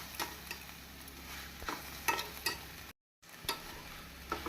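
A spoon stirs turmeric and chili spice powders into banana flower curry (vazhaipoo kulambu) as it simmers in a pan, giving repeated scraping strokes over a soft sizzle, close and with no voices.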